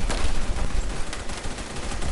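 Gunfire in the first-person shooter game Phantom Forces rattles out in loud, rapid automatic bursts with sharp repeated shots, close and dominant, with no one talking.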